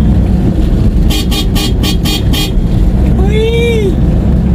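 Road traffic passes close by with steady engine and tire noise, a quick run of several short horn toots, then a single longer honk, while people speak over it.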